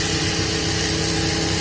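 A sewing machine runs continuously while stitching a gota patti border strip onto fabric, giving a loud, close, steady mechanical hum with a fast even rattle and no pauses.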